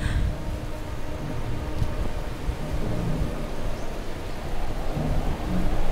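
Thunderstorm with steady rain and low rumbling thunder, a continuous broadband wash at fairly loud level with no speech.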